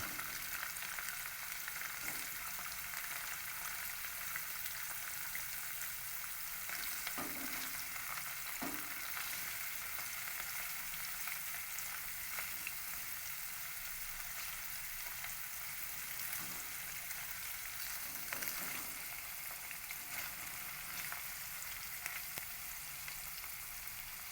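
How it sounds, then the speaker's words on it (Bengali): Small cut pieces of paneer frying in a pan, a steady close sizzle continuing throughout with occasional stirring and shifting sounds. "ছোট করে কেটে রাখা পনিরের টুকরোগুলোকে দিয়ে দিলাম সামান্য ভেজে নেওয়ার জন্য"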